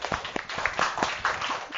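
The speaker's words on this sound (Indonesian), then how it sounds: "tepuk tangan dulu untuk kita semua" Classroom applause during a lesson, a short burst of scattered hand claps from a group of students, individual sharp claps audible in a loose, uneven rhythm, moderately close and with no speech.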